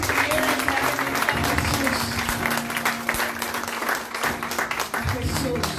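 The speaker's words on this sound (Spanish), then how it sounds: "Dale un fuerte aplauso al que vive, al que reina" Church congregation applauding with steady, dense clapping throughout, loud and close, mixed with crowd voices and cheering, with a sustained tone running underneath.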